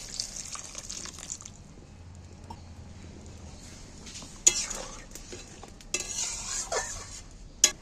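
Lukewarm water poured into salted lentils in a pot while they are stirred, a soft hissing bubble with occasional sharp clinks and scrapes of a spoon against metal, fairly close, with no speech.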